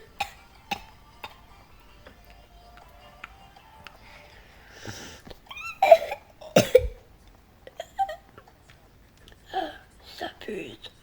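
A sick person coughs in several sharp, close bursts, some clustered together, separated by quiet gaps with faint ticking in the background.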